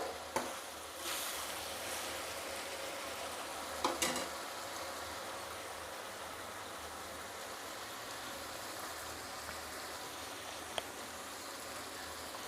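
Chicken curry masala frying in a pan with red chili powder, a steady soft sizzle running throughout with a few brief stirring clinks, moderately quiet and close.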